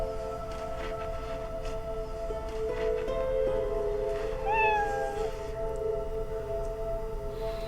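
Cat meowing in a quiet room over a steady background hum, a single drawn-out meow with a rising-falling tone heard clearly near the middle.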